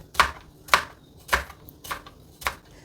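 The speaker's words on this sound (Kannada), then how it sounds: "ನಾನಿಲ್ಲಿ ಈರುಳ್ಳಿ ಹಾಕ್ತಾಯಿದ್ದೀನಿ ಉದ್ದುದ್ದಕ್ಕೆ ಈ ರೀತಿ ಕಟ್ ಮಾಡ್ಕೊಳ್ತಾ ಇದ್ದೀನಿ" A knife cuts medium onions lengthwise on a board for vangibath, five crisp, evenly spaced chops, close and clear with no voices.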